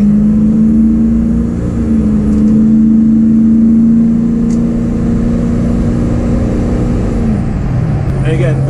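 A Ford 6.0 Powerstroke diesel truck with an upgraded turbo pulls under light throttle, giving a loud, steady low drone with a rising whistle-like tone that fades near the end.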